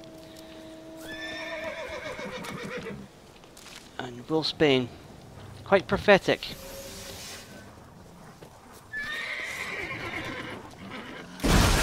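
A horse neighs loudly in several whinnying bursts, with hoofbeats and someone talking before and after in The Witcher 3 game soundscape.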